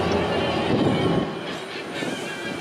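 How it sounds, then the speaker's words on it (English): An amusement park train at Family Kingdom, Myrtle Beach, rolls past nearby with a dense, steady rumble and clattering wheels that ease slightly in loudness as it continues, with no voices over it. "Oh, and there's the train as well."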